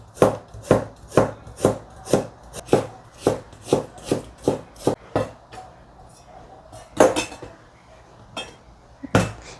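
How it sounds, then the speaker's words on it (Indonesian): Ginger is chopped with a knife on a board in a home kitchen, a steady run of about a dozen crisp, evenly spaced thunks up close, pausing briefly before a few more chops. "Jahe dipotong-potong."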